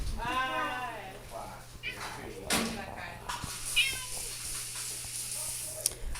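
A hungry domestic cat meows repeatedly for food at a beach house, several drawn-out, wavering cries close by, with people talking in between.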